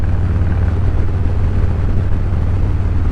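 A 2020 Harley-Davidson Street Bob cruiser motorcycle engine runs loud and close, a steady deep rumble with rough low-end pulsing throughout, no voices over it.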